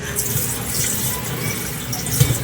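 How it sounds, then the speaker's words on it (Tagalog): A kitchen sink tap runs for washing up, with a steady close splash of water falling into the basin and no speech over it. "Maghuhugas ako dito."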